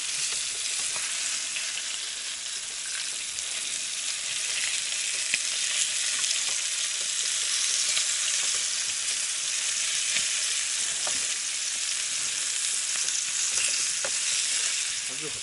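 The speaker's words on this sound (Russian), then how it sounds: "ты хотел рыбу жарить?" Fish frying in a pan at a tent camp, a dense continuous sizzle with crackling spits, close and steady throughout, no talking.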